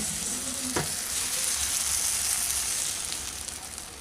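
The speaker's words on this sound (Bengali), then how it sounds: "এবারে আমি একটা হাতাতে করে কিছুটা পরিমাণ ব্যাটার তেলের মধ্যে দিয়ে দিলাম" Egg batter ladled into hot oil sizzles and fries in a pan for a single-egg dish. A steady, close hiss carries through with a faint clink near the start, then eases off slightly toward the end.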